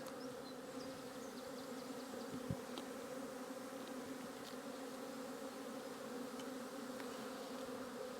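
A honeybee colony hums in a steady, dense drone during an early spring hive inspection, soft and continuous with one faint knock partway through and no voices.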